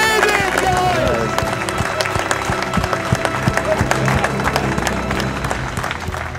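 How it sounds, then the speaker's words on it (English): Team of people clapping and cheering after the first solar-powered night flight of the Solar Impulse aircraft, a close, lively burst of applause with voices mixed in. "Toute l'équipe t'applaudit"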